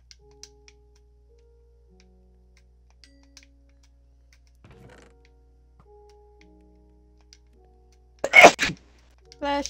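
A single sharp human sneeze bursts out loudly near the end of an otherwise quiet indoor stretch with faint clicks and ticks, followed by a short voice.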